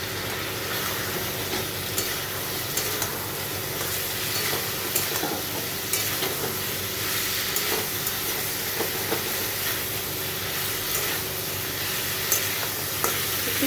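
Potatoes and cauliflower sizzle and fry steadily in a hot pan as water is added, a continuous close hiss with small crackles and occasional stirring clinks throughout.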